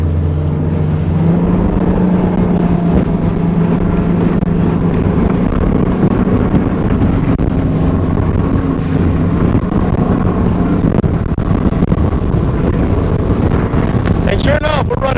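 Steady outboard motor drone from a Skeeter FXR Select bass boat cruising on plane at 3,500 RPM during break-in, with wind buffeting the microphone and someone talking over it.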